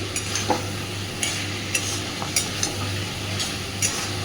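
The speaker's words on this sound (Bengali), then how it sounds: "মশলাটা কষে বেশ ভালো মতো তেল ছেড়ে গেছে" Spice masala for Kashmiri aloo dum cooking down in oil in a pan, a steady soft sizzle under repeated clinks and scrapes of a spoon stirring, close and moderately loud, with no talking.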